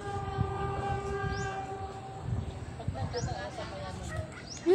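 Train rumbling past on railway tracks, steady low rumble with tonal horn-like bands, loud and close, with people talking nearby.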